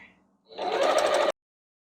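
A sewing machine stitches the last seam of a jelly roll quilt in one quick, close, even buzzing run of under a second that stops abruptly.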